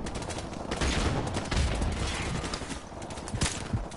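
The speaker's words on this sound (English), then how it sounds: "He was shooting like a bad man, I can tell you that" Rapid video game gunfire crackles in dense, uneven bursts for a few seconds, moderately loud with a busy mix of shots and no voices.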